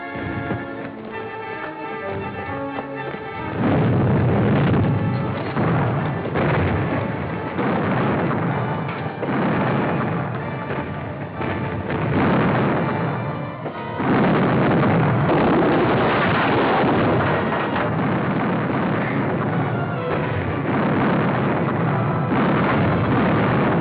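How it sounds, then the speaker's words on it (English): Ship cannons fire in a pirate battle with a man-of-war: dense, continuous booming and rumbling that runs loud from about four seconds to the end, after a quieter start. "Man the guns! Return their fire!"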